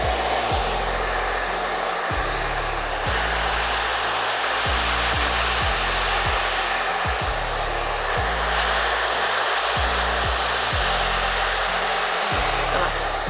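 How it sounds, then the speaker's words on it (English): A blow dryer fitted with a nozzle runs continuously at close range while hair is dried over a large round brush, a loud steady roar with its pitch repeatedly dipping and recovering as it moves. "We're gonna grab blow dryer with your nozzle"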